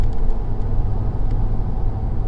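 A 2019 Ford F-350 pickup with the 6.7 diesel cruising at steady highway speed, giving a constant low engine drone and road rumble from inside the cab with no break in level.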